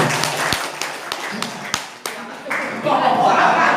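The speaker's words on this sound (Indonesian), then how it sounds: "Tepuk tangan Bapak" Scattered clapping builds into steady applause from a group at a school principal handover ceremony, with a voice speaking over the first claps.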